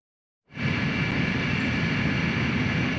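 Video game aircraft squadron launching: a roaring engine rush cuts in abruptly after a moment of silence and holds loud and steady to the end.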